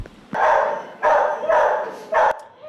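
Greyhounds barking at a greyhound adoption kennel, four loud, close barks in an uneven rhythm with short pauses between them.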